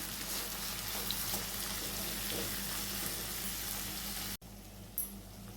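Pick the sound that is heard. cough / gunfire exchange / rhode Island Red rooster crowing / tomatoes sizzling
tomatoes sizzling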